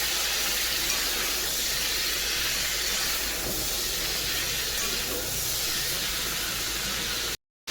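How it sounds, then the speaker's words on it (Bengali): Potatoes frying in a pan in a home kitchen, a steady loud sizzling hiss throughout, with a voice in the background. "আগে এটা একটু ভেজে নিলাম তারপরে আলু দিচ্ছি"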